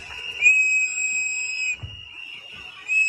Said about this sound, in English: So these whistles in your ear right now.